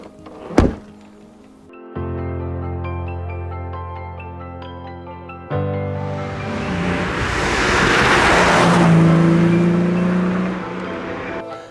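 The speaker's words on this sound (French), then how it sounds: "je vais te présenter mon Simca 1200S." Rare Simca 1200S sports car with wide wings and wide wheels: a sharp door thunk, then the engine starts and idles with a steady hum before revving hard into a loud, rising roar.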